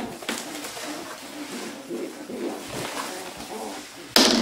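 Breeding racing pigeons in a loft coo softly and steadily, a low murmur of birds close by, ending with a sudden louder clatter.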